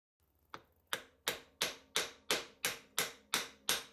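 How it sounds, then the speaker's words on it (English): Nine or ten sharp metallic taps from a small hammer on a brass bar held against a model steam locomotive piston land at a steady, slightly quickening pace, each ringing briefly, close and clear with nothing else around. "Lots of very small taps with a hammer against a piece of brass bar, which in turn is against the piston."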